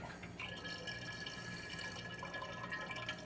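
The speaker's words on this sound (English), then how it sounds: "And then I'm going to pour this into the jug." Liquid for homemade hard apple cider trickles and splashes as it is poured into a jug, a steady running pour with small drips, fairly faint and continuous from start to finish.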